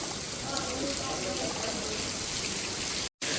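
Steady heavy rain hisses and water runs continuously off a roof through drain spouts, dense and unbroken, with a brief cut to silence near the end.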